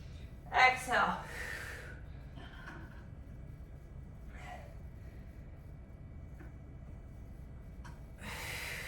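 A heavy exhale during a HIIT total body strength workout comes as a sharp, breathy burst early on. A softer breath follows, with quiet gaps between and another rush of breath at the end, alongside a faint voice.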